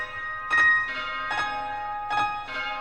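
Bell strikes in a song, four evenly spaced tolling hits with long ringing overtones over the music, moderately loud and without talk.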